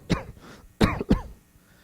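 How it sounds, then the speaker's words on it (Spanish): Three short, close coughs, one then a pause, then two in quick succession, with no talking. "de momento usted empieza a toser"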